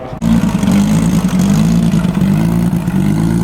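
A car engine from a 1000hp Z build catches after a brief click and settles into a loud, steady, close rumbling run with slight fluctuations in tone.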